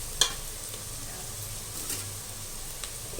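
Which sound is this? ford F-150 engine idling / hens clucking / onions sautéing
onions sautéing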